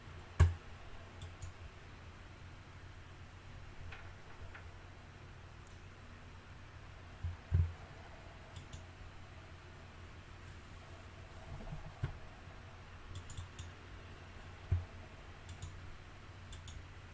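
Sparse, faint computer mouse clicks sound singly and in small pairs over a quiet room hiss, with long pauses between them.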